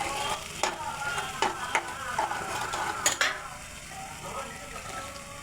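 A spice paste with chili powder and salt sautés in a pan for a pomfret mustard curry, giving a soft sizzle broken by sharp scrapes and clinks of a spoon against the pan, close but fairly quiet.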